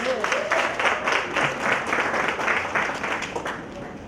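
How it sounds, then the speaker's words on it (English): Audience applause at a voter registration campaign launch, steady dense clapping from a crowd sustained for about four seconds, fairly loud and even throughout with slight tapering at the end. "Let's give him a round of applause."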